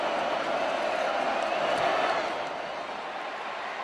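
A boisterous crowd roars steadily at Darrell K. Royal Stadium during a Texas vs UTSA college football game, a dense sustained wash of cheering and whooping that swells midway then eases slightly, heard continuously throughout.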